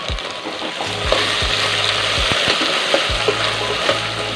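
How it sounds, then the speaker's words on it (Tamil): Steady sizzling of bitter gourd sautéing in a hot pan, with intermittent scraping clicks of a spatula stirring, no talking. "பாவக்காய் நல்லா வதங்கிடுது"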